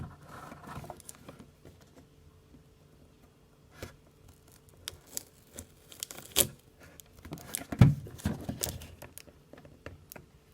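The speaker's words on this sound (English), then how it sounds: "Got my handy dandy scissors right here." Scattered snips and crinkling as scissors cut into a package, with sharp clicks and rustling paper, close and fairly quiet.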